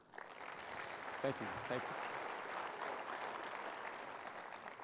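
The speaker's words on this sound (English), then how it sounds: "they deserve a big round of applause" Audience applause fills a hall after a talk on firefighter injury prevention and wellness, steady and dense for the whole stretch, with someone briefly speaking over it near the middle.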